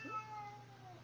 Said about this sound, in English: That's my cat, guys.